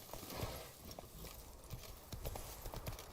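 Roach, Geralt's horse in The Witcher 3, gallops with quick, rhythmic, fairly faint hoofbeat clip-clops that keep a steady pace throughout.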